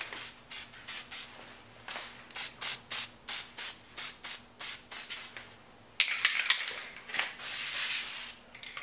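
Spray can applying a first coat to a Robot Damashii figure: a rapid series of short, close hissing bursts in a regular rhythm, then a longer, denser spray toward the end.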